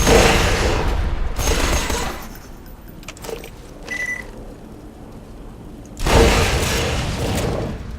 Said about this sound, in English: Wasted 4 shots just to blow up a thing.